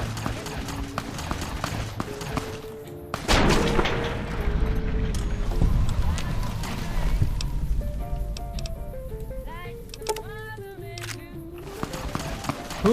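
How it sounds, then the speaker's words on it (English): Gunfire in a Western-style video game, with sharp shots and a big booming burst amid galloping hoofbeats and game music, busy and loud throughout. "Who's shooting?"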